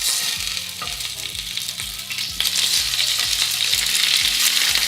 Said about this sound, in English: we're gonna add it to a smoking hot pan. Be very careful as the oil will splatter.